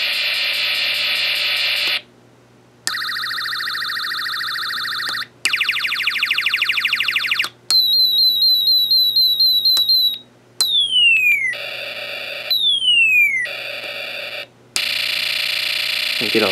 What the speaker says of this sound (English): So let's try listening to one from the push button. There's one sound effect.